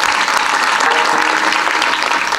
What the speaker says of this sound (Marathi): टाळ्या वाजवा जरा बाबा करता एकदा